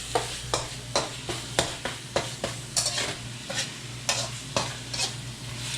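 Brine sweet radish sautéing with palm sugar in a pan: a soft, even sizzle under a regular run of spatula strokes scraping the pan about twice a second, close and fairly quiet.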